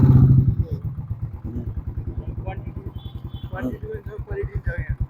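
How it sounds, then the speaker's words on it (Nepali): A motorcycle engine idling and running close by, a rapid steady low thumping putter throughout, with a person talking over it. "बाइकमा तेल हालेपछि छुट्टै हुँदो रहेछ क्या"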